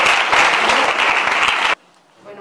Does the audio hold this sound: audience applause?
yes